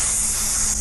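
A voice imitating a hot sizzling noise, a short, loud, breathy hiss held steadily for just under a second.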